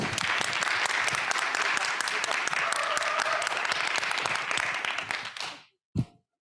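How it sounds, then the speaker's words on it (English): Audience applause at a morning forum session, sustained loud clapping from a room full of people that fades out, followed by a single sharp knock after a brief silence. "Can you give her a clap?"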